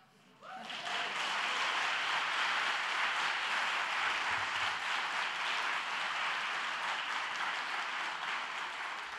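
Sustained audience applause greets a guest professor at a mathematics teaching lecture, starting abruptly after a brief quiet moment and then holding as a broad, even roar of clapping from a large crowd, fairly distant in the hall.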